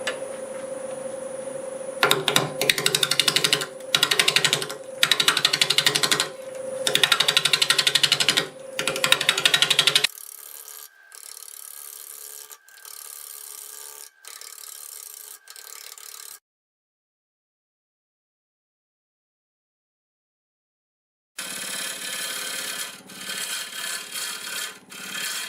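Bowl gouge cutting a macadamia wood bowl spinning on a lathe, loud rough scraping and hissing in bursts with a steady motor tone, then quieter intermittent cuts, a silent gap, and more cutting.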